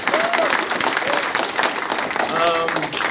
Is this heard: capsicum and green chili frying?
no